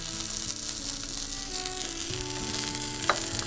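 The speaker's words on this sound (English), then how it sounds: "We're going to bring our halibut back up. I am going to turn the pan up a little bit." Halibut sizzles in a hot pan in a steady, fairly quiet frying hiss with faint crackles and one small sharp pop near the end, and no one talking.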